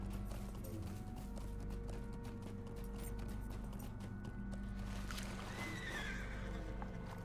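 A horse in the Lord of the Rings Online video game on the Mordor server, its hooves clopping in a steady rhythm and followed by a whinny as it plunges into water, all heard faintly over a low rumbling game soundtrack.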